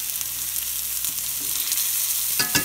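Blackened fish fillets, skin side up after flipping, fry in a hot pan with a continuous bright hiss, plus a couple of sharper crackles near the end, close and with no voices.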